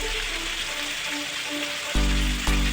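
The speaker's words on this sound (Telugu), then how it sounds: "చికెన్ అప్పటి వరకు ఫ్రై చేసుకోవాలి చూడండి చికెన్ ఫ్రై అయిపోయింది" Chicken pieces frying in a pan for Hyderabadi butter chicken, an even crackling sizzle throughout, with a louder low clunk near the end as the pan or contents are shifted.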